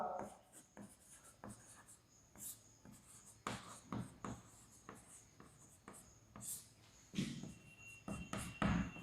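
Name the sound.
writing an answer by hand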